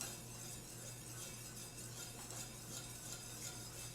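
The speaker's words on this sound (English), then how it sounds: "we'll let it kind of just keep whisking and let it thicken" A whisk stirs milk and cream into a sauce for creamed spinach on a stovetop, a soft continuous scraping and swishing with a faint low hum beneath, no talking.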